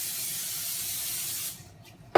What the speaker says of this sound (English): So the pan's warm.